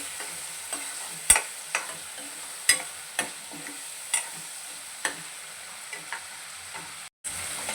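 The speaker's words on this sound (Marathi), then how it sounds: "कोलंबी जी साफ करून घेतलेली आहे ती आपण थोडीशी मिनिटभर परतवून घ्यायची आहे" Prawns sautéing in hot oil in a pan give a steady close sizzle, punctuated by about a dozen sharp scrapes and taps as they are stirred.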